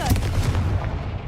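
Confringo, a blasting spell in the Hogwarts Legacy game, goes off as a loud booming explosion with a rumbling low tail that fades over about a second.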